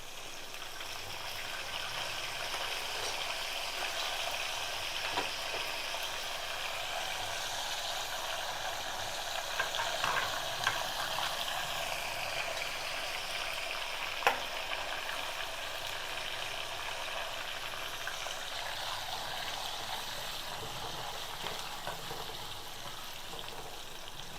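Cashews and curry leaves frying in hot ghee or oil for a temple-style pongal tempering, giving a steady, faint crackling hiss that runs without pause, with a few small pops along the way.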